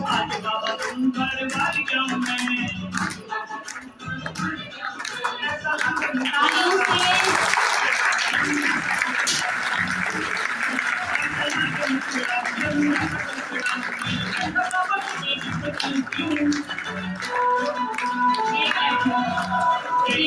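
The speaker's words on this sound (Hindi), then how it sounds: "तालियों से सभी सहयोग देंगे" Audience applause at a Mahashivratri program in Pratapgarh, Uttar Pradesh, swells into sustained clapping from a crowd, with voices and music-like sounds mixed in throughout.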